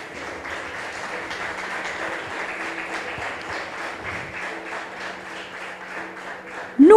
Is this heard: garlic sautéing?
no